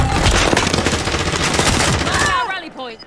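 Dense, rapid automatic gunfire from a shooter video game rattles on loud and close for most of the moment, then fades out as voices talk over the tail.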